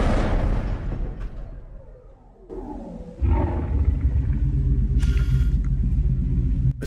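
A car rumbles past in a Jurassic Park analog-horror scene, starting as a heavy, loud low roar that fades out, then coming back as a sustained rumble with a brief hissing burst near the end.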